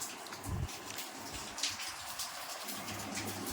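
Rain falls outdoors at a village home, a steady wash of patter and drips, fairly faint, with no talking.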